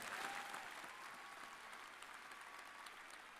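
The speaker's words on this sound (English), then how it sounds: "I think that deserves a round of gratitude and applause." An audience at a spring commencement ceremony for a graduate college claps steadily, a faint and distant wash of applause lasting throughout.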